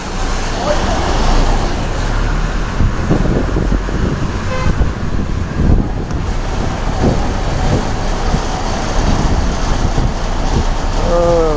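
A bus runs the early-morning Tenali to Kothuru road near Vemuru, with a steady rumble of engine and road noise, passing traffic and a few short horn toots, and a voice talking over it.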